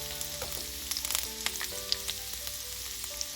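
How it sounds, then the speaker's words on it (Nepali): Chopped garlic cloves and an inch of ginger sizzle in hot oil for a chicken curry, a close, steady crackle with scattered pops and no voices. "मैले यसमा राखेँ 4-5 वटा जति लसुनको पोटीलाई यसरी, 1 इन्च जति अदुवाको टुक्रालाई यसरी राखेँ काटेर।"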